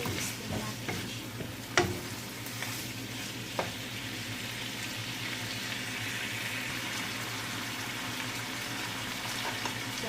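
Seafood stir-fry with shrimp being mixed in a pan, a soft steady sizzle with a few sharp scrapes and clinks near the start, fairly quiet and without talk.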